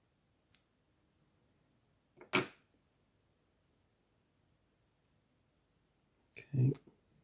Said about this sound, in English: Snip them out of the way.